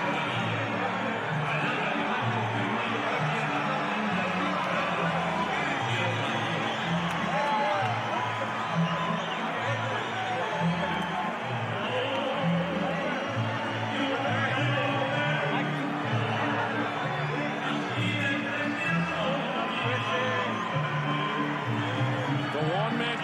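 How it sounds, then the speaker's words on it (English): A large partisan Mexican crowd at the Floyd Mayweather vs. Juan Manuel Marquez boxing fight keeps up a dense, steady roar of cheers and whoops in a big arena, with voices talking over it throughout. "Partisan Mexican crowd here."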